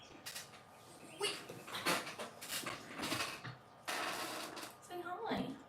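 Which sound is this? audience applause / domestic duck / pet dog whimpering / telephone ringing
pet dog whimpering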